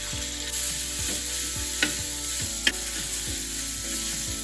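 Ground green chili chutney sizzles steadily in about two spoons of oil on a tawa, with a spatula scraping and stirring in a regular rhythm over the constant close frying hiss.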